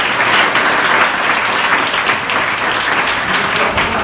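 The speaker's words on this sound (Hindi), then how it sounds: "तो वैसे ज़रा तालियां बजाएं" Dense applause from an audience at a college rover scouts unit formation event, loud, continuous and close, a steady wash of many hands clapping without a break.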